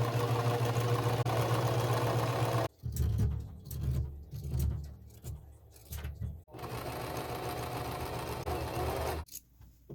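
Sewing machine stitching fabric in fast, steady runs, broken by a stretch of quieter, irregular clicks and knocks before the motor resumes; fairly faint overall.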